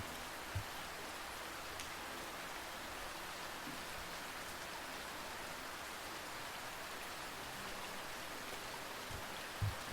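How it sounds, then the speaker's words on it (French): Rain falls steadily on city streets in a soft, even hiss, faint and continuous with a few scattered drips, and no voices. "d'être au sec et de regarder la pluie tomber et nettoyer la ville."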